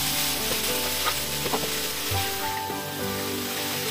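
Vegetables for miki-bihon noodles go into a hot frying pan with soy sauce and give a steady, loud sizzle throughout, with a few faint clinks from stirring.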